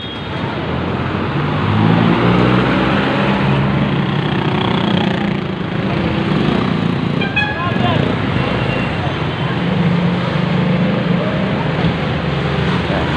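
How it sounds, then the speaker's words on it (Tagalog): Dense street traffic along Juan Luna Street in Divisoria, Manila: engines idle and rev close by, with horn-like tones and general roadway clamor, while someone speaks over the noise. "Traffic."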